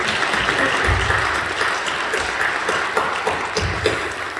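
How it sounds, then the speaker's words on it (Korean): A church congregation at a Saturday dawn prayer service applauds to welcome returning members, a steady, loud spread of many hands clapping with some nearby louder claps, heard without talk. "여러분들 사랑하고 격려하는 마음 박수로 환영해 주시기 바랍니다."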